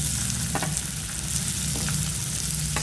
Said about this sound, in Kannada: ಎಣ್ಣೆಗೆ ಹಾಕೊಂಡು ಹುರ್ಕೊಳ್ತಿದ್ದೀನಿ.